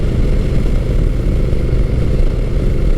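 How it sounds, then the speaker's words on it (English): Honda Rebel 1100 T DCT automatic cruiser motorcycle engine running steadily, a loud, close, continuous low rumble with no talking. "I have a mild-mannered cruiser-style automatic motorcycle"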